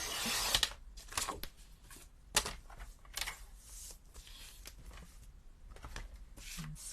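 A blade cuts through a piece of card on a paper trimmer, giving soft close scraping and rubbing strokes with a few sharp ticks, fairly quiet throughout.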